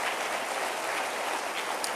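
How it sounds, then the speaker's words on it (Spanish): A church congregation applauds, a dense steady patter of clapping hands that fills the room evenly for a couple of seconds. "Denle un aplauso"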